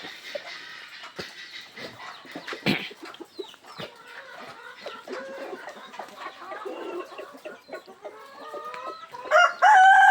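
Brown-egg and white-egg laying hens cluck and squawk in a busy, shaded farm yard, with a rooster crowing loudly near the end; no talking.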